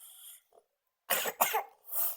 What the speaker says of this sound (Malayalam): ചുമ ഉണ്ട്, അതുകൊണ്ടാ.